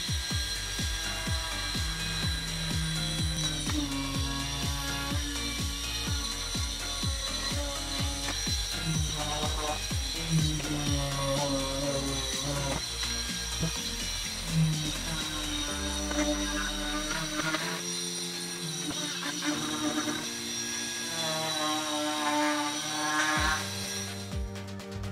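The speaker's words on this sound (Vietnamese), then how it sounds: "Bây giờ mình sẽ khoan cắt từng điểm một." A drill whirs in short repeated bursts with clicking and grinding as holes are cut one after another in a small multi-purpose power supply, close by and fairly steady.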